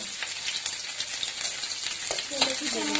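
Onions frying in a pan, a dense steady sizzle with soft stirring scrapes, close and even throughout, with a faint voice briefly near the end.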